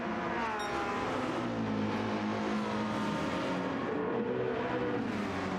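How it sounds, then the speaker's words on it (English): Race cars roaring down the long straight at Le Mans during a World Endurance Championship round, a continuous loud engine drone with rising revs as several cars pass close by, with no talking. "listen to these cars coming down the straight is incredible"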